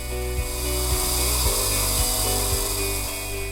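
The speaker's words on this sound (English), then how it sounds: "The first drill that he uses is a 2mm pilot drill, which drills an initial channel to remove a central core of bone through the upper jaw." A 2mm pilot drill cutting into upper jaw bone for a dental implant, a steady whining tone held throughout and broken by short, evenly spaced pulses as the bit bites into bone.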